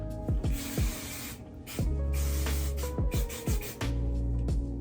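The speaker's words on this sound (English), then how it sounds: "Right now I am using the Sexy Hair Healthy So Touchable Hairspray." Sexy Hair Healthy So Touchable hairspray is sprayed onto hair in a run of short, close, hissing bursts, separated by brief pauses, with no talking.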